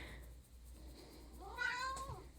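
Domestic cat meowing indoors in a bedroom, a single drawn-out rising and falling meow near the mic over a low steady hum, with no talk.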